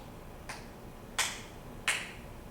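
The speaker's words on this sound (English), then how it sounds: "actually clap the first measure for us" Three sharp hand claps in an uneven, dotted rhythm, the first soft and the last two louder, in a quiet room.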